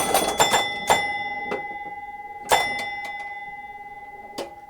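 Loud metallic bells on a Williams Honey pinball machine ring in irregular strikes, some in quick doubles, each decaying with a long ringing tone, close and without any talk.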